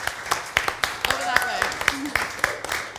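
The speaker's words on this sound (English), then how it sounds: "Okay, Anya, give her a big round of applause." Scattered claps from a small studio audience, sparse and uneven rather than a full ovation, with a few sharp hand strikes standing out over a murmur of room noise and faint voices.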